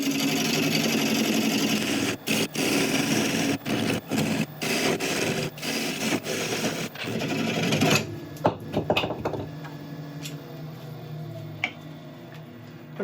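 Wood lathe turning a tenon on a mushroom burl, a steady whirring hum broken by repeated short cuts and scrapes, with the motor winding down in the last few seconds.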